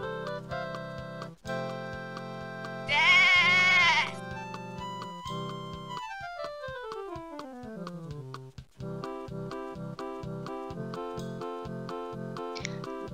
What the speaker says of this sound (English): sheep are added into the farm